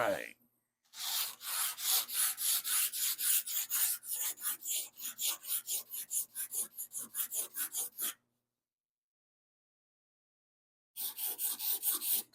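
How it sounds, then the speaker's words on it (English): A blade held at 90 degrees scrapes across cured Duraglas filler on a car body, a steady run of rhythmic rasping strokes, close and dry, stopping for a few seconds before resuming. "So I'm just holding the blade 90 degrees to it, scraping on it."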